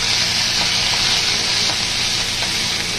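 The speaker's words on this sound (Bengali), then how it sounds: "একটু পাঁচ ফোড়ন দিচ্ছি তেলের মধ্যে, রসুন বাটা দিচ্ছি।" Panch phoron and garlic paste fry in hot oil with a loud, dense, steady sizzle that stays constant and close throughout, with faint clicks of stirring beneath it.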